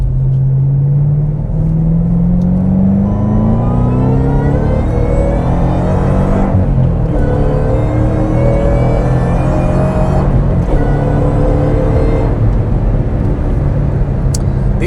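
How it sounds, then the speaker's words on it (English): Supercharged 5.4-litre V8 of a 2010 Ford GT500 with a six-speed manual accelerating hard, a rising supercharger whine over the engine's loud steady roar, climbing in pitch through the gears with brief dips at shifts. "Let you hear that supercharger whine."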